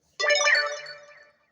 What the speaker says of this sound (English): Sorry guys about that notification